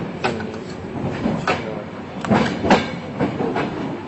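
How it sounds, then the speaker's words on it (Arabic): An empty train in Karbala, Iraq rolls along with rhythmic clattering and knocking bursts, loud and close, with faint voices under the rumble. "ولا واحد والقطار يمشي."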